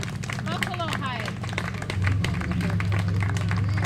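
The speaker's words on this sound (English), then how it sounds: "let's give our elders a round of applause" Applause from an outdoor community block party crowd honoring elders, a burst of clapping building and swelling under overlapping voices and a caller.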